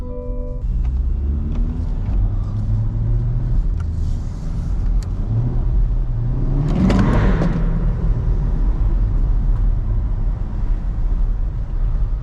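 A C8 Corvette Stingray coupe's engine rumbles loudly while driving, rising into a revving surge midway before settling back to a deep, steady drone heard from inside the car.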